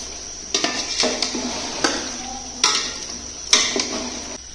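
A utensil stirs boiled beef in a cooking pan for restaurant-style beef karahi, giving several distinct metallic clanks and scrapes at irregular intervals, close and fairly loud, with no talking.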